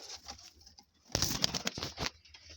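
Pigeons in a coop give soft, close cooing calls, with a louder flurry of fluttering and rustling in the middle.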